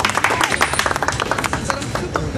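An audience claps at a stage show, dense and loud, forming a steady wash of close hand claps for about two and a half seconds with no clear break.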